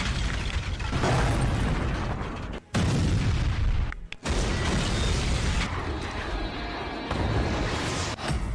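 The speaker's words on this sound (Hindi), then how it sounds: "समंदर में जबरदस्त धमाका" Heavy, roaring blasts of an explosion at sea fill the clip, with booming rumble and a couple of abrupt cuts between bursts, loud and close.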